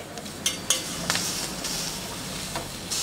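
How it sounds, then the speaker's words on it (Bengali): Flat beans fry in a hot pan until charred, giving a steady soft sizzle with a few sharp scraping stirs and utensil knocks, close and moderately quiet. "আমি এইভাবে একটু সিমগুলোকে ভেজে নিচ্ছি এরকম একটু পোড়া পোড়া হবে"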